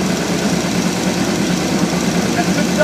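An engine in the B.G. Products Big Bubba demonstration runs with no oil, protected only by MOA additive, giving a loud, steady, dense mechanical drone close by throughout.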